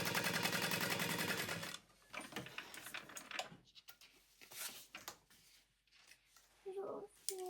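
A sewing machine stitches across the top of a handbag in a steady rapid whir for about two seconds, then stops, followed by quiet handling clicks, rustles and a brief voice nearby.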